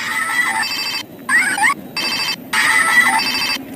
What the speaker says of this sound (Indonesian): kita dapat ada piano dan telepon Hello Kitty.